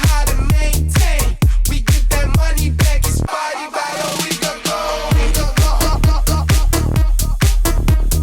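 Tech house track edit built on a steady four-on-the-floor kick with dense synths, where a high-pass filter strips the low end for a few bars mid-section before the full bass-heavy groove slams back in.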